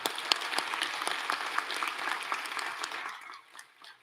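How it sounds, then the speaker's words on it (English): An audience at the ACE graduation and awards ceremony claps warmly for several seconds, a full, steady applause that thins out and fades near the end. "Let's give one more big round of applause for all of our participants."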